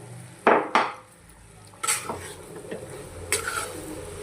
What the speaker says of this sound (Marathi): परत एकदा छान ढवळून घेते